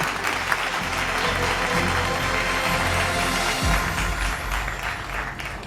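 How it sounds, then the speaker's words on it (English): Steady, dense applause from an audience at an awards ceremony, continuous and loud throughout without a break. "A big round of applause."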